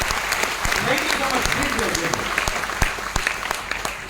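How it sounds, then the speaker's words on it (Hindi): Loud, sustained audience applause fills a hall at a direct-selling business seminar in Jalandhar, steady dense clapping throughout with voices faintly mixed in. "जोरदार ताली बजाएंगे, जोरदार सम्मान के साथ"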